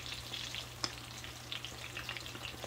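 Coconut shrimp frying in a pan of hot oil, a steady soft crackle with scattered pops and one sharp snap, fairly quiet and with no talking.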